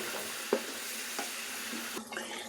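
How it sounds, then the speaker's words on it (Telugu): Chicken curry with kasuri methi and coriander is stirred in a pan, a steady close sizzle with a few soft scraping clinks of the spoon against the metal. "ఇప్పుడు 1 నిమిషం బాగా కలుపుకోవాలండి"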